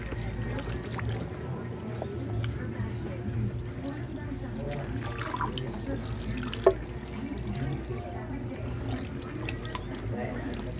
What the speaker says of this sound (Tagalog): Padadaanan natin ng tubig mga kapatid.